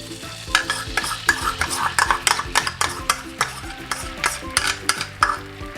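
A spoon stirs a sizzling mixture of chili, soy and tomato sauces with a little cornflour for paneer tikka masala. Rhythmic scrapes and clacks sit close over a continuous frying hiss.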